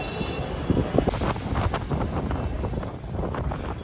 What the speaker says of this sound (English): You can see the huge waves lashing against the tetrapods lining the shore